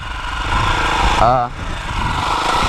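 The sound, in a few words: KTM 450XC-F dirt bike engine running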